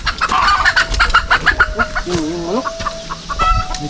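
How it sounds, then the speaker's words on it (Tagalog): Chickens clucking close by in a quick series of short calls, with a rooster-like call and faint background noise. "Uy, mga manok."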